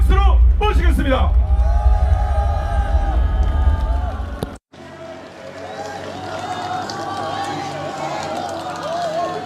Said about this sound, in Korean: 청소년 인권 운동가 배다니엘 박수로 모시겠습니다.